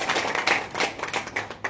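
Scattered audience clapping at a network marketing gathering, a brief burst of hand claps of moderate loudness, uneven and unsynchronized, lasting under two seconds.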